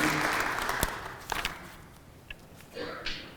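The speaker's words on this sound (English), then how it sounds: "can we have a round of applause for all the representatives of Lehigh here today?" A crowd at a historical society anniversary gathering applauds the Lehigh representatives with a dense wash of clapping that fades after about a second, leaving scattered claps and brief murmurs.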